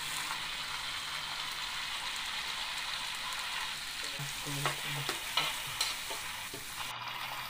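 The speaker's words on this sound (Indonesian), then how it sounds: "Lepas tu kita masukkan daun kari 6 tangkai." Curry leaves frying in a pan while being stirred for butter crab, a steady crackling sizzle heard close, with clattering spoon-on-pan scrapes and knocks building in the second half.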